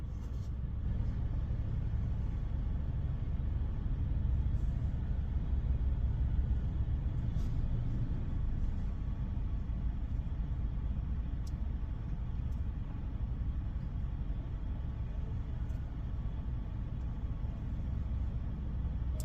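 A brand-new Ryko Softgloss Maxx 5 automatic car wash runs at a gas station, giving a steady, fairly faint rumble of motors and water spray heard from inside a car, with a few faint clicks.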